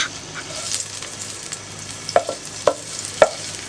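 Capsicum fries in oil left over from cooking peas, a steady sizzle in the pan broken by several sharp knocks of a spoon or spatula as it is stirred.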